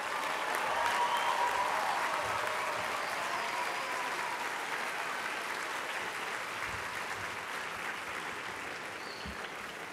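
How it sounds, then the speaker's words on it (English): An audience at an awards ceremony applauds the winners and nominees, steady dense clapping that holds through the whole stretch and slowly fades, with no talk over it. "please give them a big round of applause."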